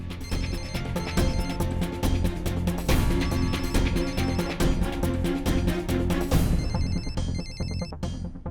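A telephone ringtone plays loud and continuously, repeating its melodic ring with no one answering, then cuts off near the end.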